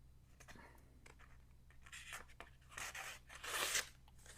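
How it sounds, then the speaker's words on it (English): A 15-inch Mossy Oak machete slicing through a sheet of paper, giving several short papery swishes and scrapes that grow louder toward the end, close by with no talk. "let's see how well this will do cutting paper"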